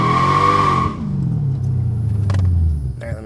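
Mercedes CLK55 accelerating hard from a launch, a loud rising engine roar that climbs steadily through the gears, then cuts off near the end, with a brief voice murmuring afterward.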